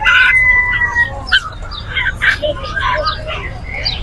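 Chickens at a Saudi poultry market give loud, close crows and clucks, with overlapping bird calls throughout and a low murmur of market noise underneath.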